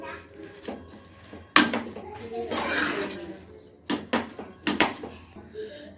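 A utensil mashes hot cooked rice in a metal pot, giving scattered clanks, scrapes and knocks in uneven bursts, close by, with a voice talking in between.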